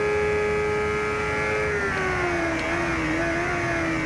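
A high-powered racing motorcycle in the video game Ride 2 drones at a steady high pitch, its engine tone dipping slightly as another bike passes; continuous and prominent without speech.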